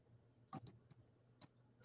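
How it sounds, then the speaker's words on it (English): A few sparse, crisp keyboard keystrokes, four or five light clicks at uneven intervals, quiet against a faint background hum. "who's typing?"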